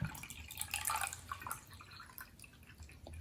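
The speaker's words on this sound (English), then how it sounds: "I'm going to take it and pour some water right inside." Water being poured into a graduated measuring container, a soft trickling and splashing that is fairly quiet and close, with no talking.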